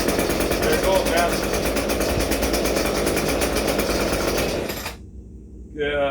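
An Echo SRM 230 string trimmer's two-stroke engine runs close and loud with a buzzing, rattling drone, holding steady for several seconds before dropping to a softer idle near the end.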